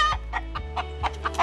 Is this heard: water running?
no